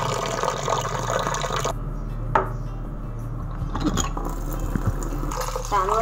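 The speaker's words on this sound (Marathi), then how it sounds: "तांदूळ असा स्वच्छ धुवून घ्यायचा" Rice for amboli batter is washed by hand in a bowl, giving soft close sloshing and splashing water with a few small clatters, fairly quiet throughout.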